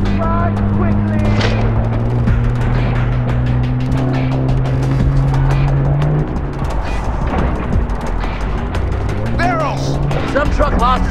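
A car is driven in the video game Far Cry 4, with a loud, steady engine drone and rising revs filling the whole stretch, mixed with game sound effects and no speech.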